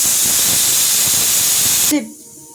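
Vegetables sizzle loudly in a little mustard oil seasoned with salt, turmeric and chilli powder, a steady hissing fry that cuts off abruptly near the end, leaving a quiet room tone.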